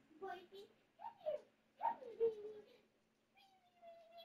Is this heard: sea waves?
no